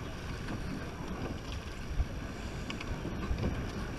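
Under-19 women's surf boat crew rowing at state titles, with soft rushing water and wind noise and faint rhythmic oar splashes, a steady moderate wash with no talk.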